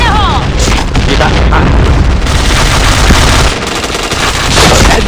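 Grenade blast in a tactical shooter game, a loud booming burst layered with rapid gunfire crackle that fills the whole stretch, with brief voice chatter mixed in.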